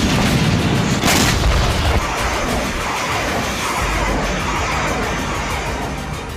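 Caliber cruise missile strike explosion in Odesa: a loud, broadband rumbling roar with a sharp burst near the start, then a sustained heavy rush that slowly eases off.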